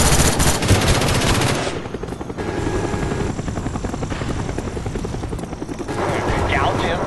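Cobra attack helicopter rotor drone mixed with bursts of machine-gun fire in the multiplayer shooter Call of Duty: Black Ops, loud and continuous throughout, with game voice announcements over the din.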